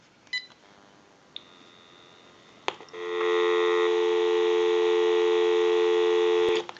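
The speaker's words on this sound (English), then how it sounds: "We'll give you some dial tone." A couple of faint clicks and a short beep, then a steady dial tone on a General Electric 27909 cordless telephone hums loudly for several seconds before cutting off abruptly.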